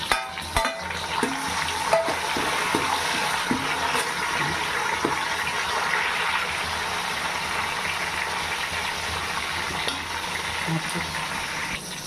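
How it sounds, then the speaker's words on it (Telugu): Tomatoes tipped into a pan of browned onions set off a loud, steady fry with stirring scrapes and a few knocks, a continuous sizzle that runs from start to finish with no talk, while chicken biryani is being made. "ఈ ఉల్లిగడ్డ వేగిన తర్వాత టమోటాలు వేస్తుంది బ్రౌన్గా అయినాయి కదండి ఎర్రగడ్డలు ఇదిగోండి ఇప్పుడు ఈ టమోటాలు వేసుకుంటాం"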